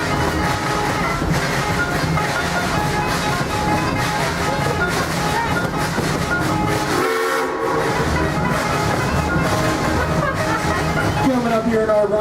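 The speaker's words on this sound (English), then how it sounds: "Our trains are both authentic steam locomotives" Authentic steam locomotive ride on the Kings Island park railroad: continuous rumble and clatter of the train cars, with a whistle sounding and faint voices in the background.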